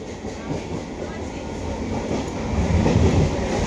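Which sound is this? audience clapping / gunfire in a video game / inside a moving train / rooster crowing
inside a moving train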